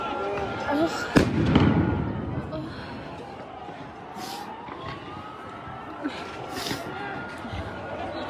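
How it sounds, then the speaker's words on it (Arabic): Stun grenades detonate during clashes at Al-Aqsa Mosque. A sharp bang lands early, then fainter blasts follow amid echoing commotion and distant sirens, with voices audible in the background. "قوات الاحتلال تطلق الغاز وقنابل الصوت بكثافة في المسجد الأقصى"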